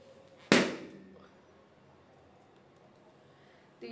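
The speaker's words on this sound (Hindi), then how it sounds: "तो ये तो यार भी ब्लास्ट हो गया, तो ये भी ब्लास्ट हो चुका है" A blown-up balloon bursts with a single sharp, loud pop, then a faint fading tail and quiet room noise, ending with a brief rustle.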